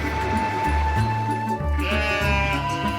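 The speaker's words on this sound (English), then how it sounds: "These are Merino sheep." Merino sheep bleating nearby, several loud, wavering calls following one another in quick succession, with some background noise and no speech.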